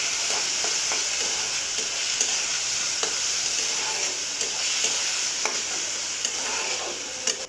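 Chopped potato frying in a pan with spices, a steady sizzle running throughout, with repeated scraping strokes of a spoon stirring it close by. No one speaks.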